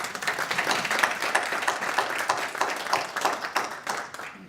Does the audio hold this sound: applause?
yes